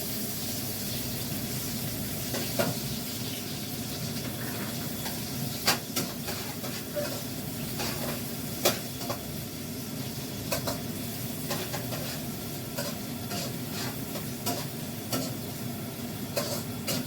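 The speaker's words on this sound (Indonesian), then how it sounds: "saya mau goreng bawang bombaynya ya" Onions fry in a pan for fried noodles with a steady low hiss, broken by frequent sharp scrapes and clinks of stirring. The sound is fairly quiet and close, with no talking.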